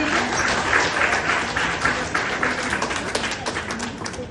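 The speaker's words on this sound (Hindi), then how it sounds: "जोरदार तालियों से स्वागत करेंगे।" Audience applause welcoming a performer at an annual school-style function, a dense steady clapping filling the hall throughout, loud and close, with a few sharper individual claps near the end.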